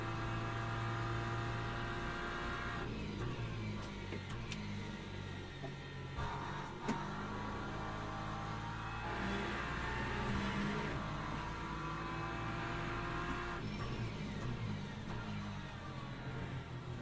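Race car engines drone in the Le Mans Ultimate sim racing game at Spa, a steady loud mechanical hum with tonal layers that shift as the car accelerates, alongside faint clicks and occasional brief spikes.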